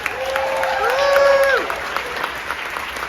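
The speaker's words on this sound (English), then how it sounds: "So let's have a round of applause for Will Morris." An audience at the Music Box theater during a David Lynch film festival breaks into applause, joined by a rising, sliding whistle or cheer midway, then the clapping thins out.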